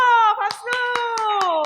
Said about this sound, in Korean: 우와, 박수!